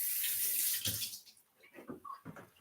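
Chopped potato cubes get a quick rinse under a running tap, a loud hissing stream at first that breaks off into splashes and short bursts of water.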